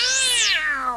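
A single cat meow, loud and close, rising then falling in a smooth drawn-out cry lasting about a second, heard on its own.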